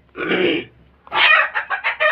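Egg-laying hens cluck loudly and close by, a dense burst of calls followed after a short pause by a run of several rhythmic clucks.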